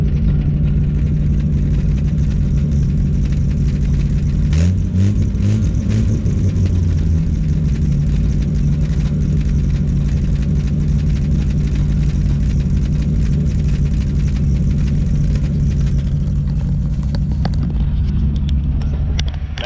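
A 1957 Chevrolet's old engine idles steadily with a deep, rough rumble, a loose, tied-up exhaust rattling and buzzing throughout, close and loud with no talking.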